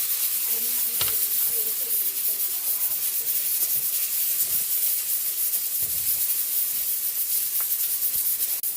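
Chopped tomatoes sauté in a hot pan for a Filipino dish, giving a loud, steady sizzle with occasional stirring scrapes and clinks.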